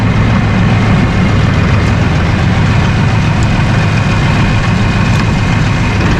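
A 2017 Mahindra 5570 utility tractor, a 70-horsepower diesel, drives along in gear, its engine a steady low, rumbling drone that stays loud and even throughout without talk.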